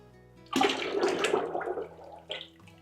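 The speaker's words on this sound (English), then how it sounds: "I'm gonna add my lye water." Lye water is poured close up into a container of soap-making oils for herbal nettle soap, making a splashing, gurgling pour of about two seconds that ends with a small final trickle.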